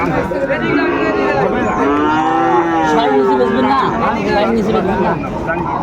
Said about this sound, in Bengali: গরু আনছে